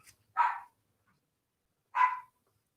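A dachshund barks twice, about a second and a half apart; each bark is short, clear and fairly close, with silence in between.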